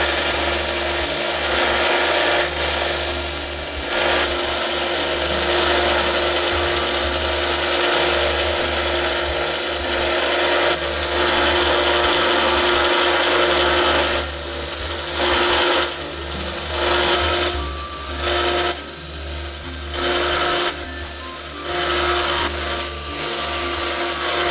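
A small electric sander grinds continuously against a Buck 119 knife, a loud, steady rasping drone that shifts slightly in pitch as it works over curves, with no voices.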